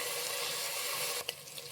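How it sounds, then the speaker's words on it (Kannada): Tomatoes fry in a pan with a steady, close sizzle and hiss, followed by a brief clink or stir near the end. No voices are heard. "ಮತ್ತು ಟೊಮೊಟೊ ಎಲ್ಲ ಚೆನ್ನಾಗಿ ಸ್ಮ್ಯಾಶ್ ಆಗೋವರೆಗೂ ಫ್ರೈ ಮಾಡಿ."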